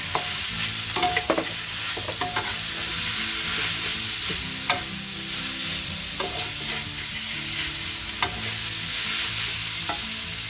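Flowers and pork stir-fry in a hot pan, a steady close sizzle broken by repeated scraping and clinking of a spatula, with no talking.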